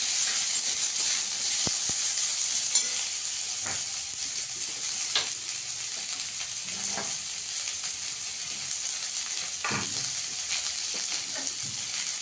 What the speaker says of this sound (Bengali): পেঁয়াজটাকেও একটু ভেজে নেবো।